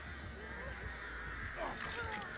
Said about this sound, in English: There's the crows coming down.